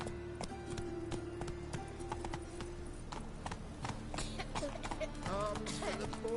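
Geralt's horse Roach trotting in The Witcher 3, a steady rhythmic clip-clop of hooves close by, with a soft neigh near the end and a faint voice underneath.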